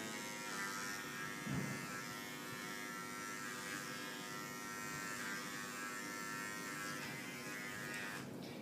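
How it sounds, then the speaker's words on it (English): An electric hair clipper tapers the hair along a neckline, giving a steady, close buzzing hum that runs the whole time with small shifts in pitch as the blade moves through the hair, and no talking over it. "So we will start on this side, fully extend the clipper,"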